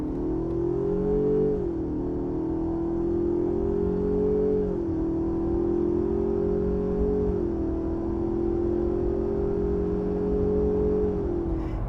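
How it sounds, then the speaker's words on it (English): A four-cylinder car engine paired with a 10-speed automatic lugs at low RPM in a high gear, a steady droning hum heard from inside the cabin, with its pitch sagging and surging a few times. "this engine is lugged so much that what you feel is this. The engine surges."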